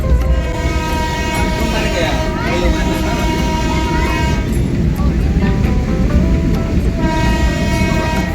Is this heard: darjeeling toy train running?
yes